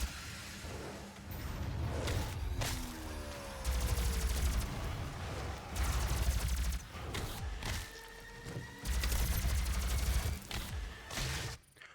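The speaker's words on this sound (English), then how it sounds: "We need some good old-fashioned plasma rifle." Repeated bursts of rapid plasma rifle fire in Doom (2016), several loud volleys separated by short pauses, with whooshing effects between them.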